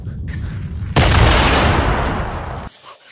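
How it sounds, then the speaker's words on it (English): Grenade blast in the desert map of a Gorilla Tag VR game: a sudden loud, broad burst that holds for nearly two seconds before cutting off to quieter game ambience. "Grenade."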